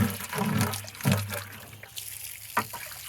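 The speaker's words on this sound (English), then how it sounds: "we'll wash this bucket really good into our gold pan." Water rinses the contents of a bucket into a gold pan during gold prospecting at a mine, heard as a close splashing pour with gurgling bursts that tapers off, then a short final splash.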